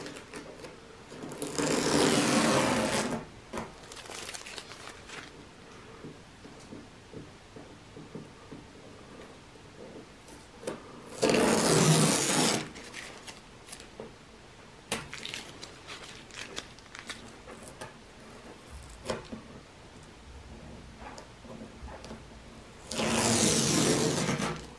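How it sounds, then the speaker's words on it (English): Masking tape is peeled off a car panel in three long tearing rips, each a harsh ripping burst a few seconds long with quiet handling noises between. "I'm actually going to just remove the tape on the top and the sides so we can see the tape line"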